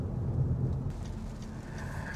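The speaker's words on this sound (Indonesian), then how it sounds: "Ya, hujan lagi deh" Rain patters on a moving car, a dense steady hiss over the low rumble of the cabin and road noise, with no talking.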